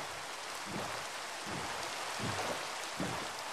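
Steady rain in the video game Minecraft, a soft, even hiss of falling drops with faint low rumbling swells, with no voices.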